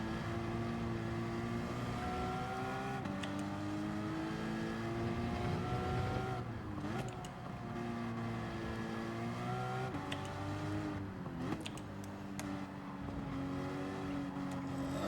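Race car engine in Gran Turismo 7 during a Manufacturers Cup race at Barcelona, a loud continuous high-revving drone that climbs through the gears with brief dips at shifts and tire noise, with no talk.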